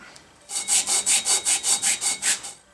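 Sandpaper of 100 grit is rubbed back and forth over a metal lathe bed, about ten even rasping strokes in quick rhythm after a short pause, close and loud with no voices.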